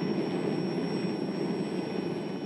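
Steady whine and roar of a Royal Navy Sea King HC Mk4 transport helicopter engine, constant and fairly loud throughout with a high turbine tone on top.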